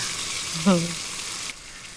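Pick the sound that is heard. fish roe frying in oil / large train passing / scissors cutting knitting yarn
fish roe frying in oil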